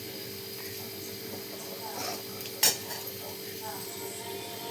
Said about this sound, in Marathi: आणि छान असा मसाला परतून घेतलेला आहे.